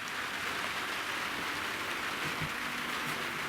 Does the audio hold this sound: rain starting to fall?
yes